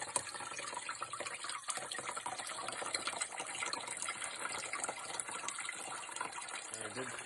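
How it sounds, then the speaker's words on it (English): Greywater pouring steadily into a pumping basin through a filter sock, a continuous close gushing splash with no break across the whole stretch. "the gray water is flowing into the pumping basin. You can see it pouring in through the filter sock."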